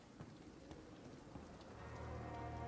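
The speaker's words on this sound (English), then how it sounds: "Get out of the rain, Dr. shall we?" Steady rain falls in the video game Vampyr, a soft, even hiss of drops on surfaces that holds throughout and thickens slightly toward the end, with no speech.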